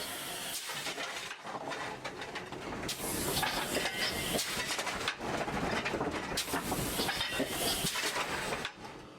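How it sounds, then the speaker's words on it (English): Locomotive at a Nevada copper-mining town railroad pulling away: broad rushing hiss and chuffing noise with rhythmic surges and clanking, loud and sustained throughout. "Moments later, the locomotive is underway"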